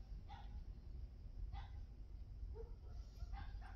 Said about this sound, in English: their damn dog just barks endlessly